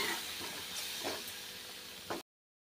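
Masala sizzling and frying in hot oil in a pan while making chole masala, a steady close hiss with a few soft stirring scrapes, no voices.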